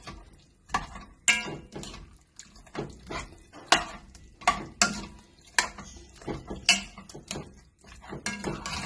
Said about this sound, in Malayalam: ഇനി ചിക്കന് നന്നായി ഇളക്കി ചേർത്തെടുക്കാം. നന്നായി ഇളക്കി ചേർക്കണം.